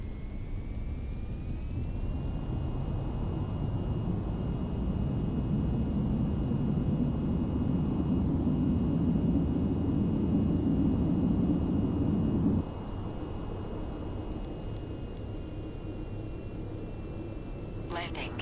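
Jet-style engines of a VTOL aircraft in the VTOL VR flight game spool up to full speed, a loud steady roar with a rising whine that holds, then drops slightly in level near the end, with some talk underneath.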